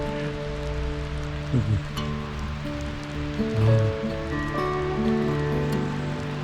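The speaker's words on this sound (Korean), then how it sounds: "지금 비가 오고 저 아래는 물이 흐르는 소리가 들립니다" Rain patters steadily in a forest while a stream flows below, with a soft continuous wash and some low rumbling; a person briefly speaks.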